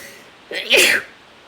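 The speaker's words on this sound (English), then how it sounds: "I should have sneezed on the cat page because I'm actually allergic to cats, not dogs" A single sharp human sneeze, close and loud, with a short intake followed by the burst.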